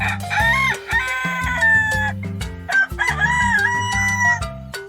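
A rooster crows loudly and close, two long strained cock-a-doodle-doo calls in succession, the kind of loud-voiced bird entered in crowing contests.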